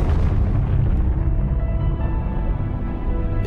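A deep explosion rumbles loudly from the outset and slowly decays into a low, lingering roar.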